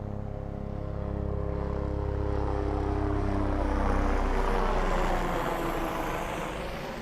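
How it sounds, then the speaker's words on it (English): A Bell JetRanger helicopter passes overhead at a Florida beach, a steady broad rotor-and-turbine roar that swells toward the middle and slowly fades, with no voices. "helicopter overhead now that you could hear."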